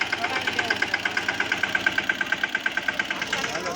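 A tractor engine idles with a steady, rapid chugging beat, loud and close, its even rhythmic pulses holding throughout.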